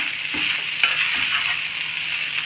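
Cabbage rice being stirred and mixed in a pan over a low flame, giving soft continuous scraping and stirring with a gentle sizzle underneath, steady and close, with no voices.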